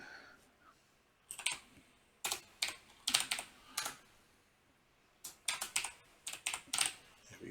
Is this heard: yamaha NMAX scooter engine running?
no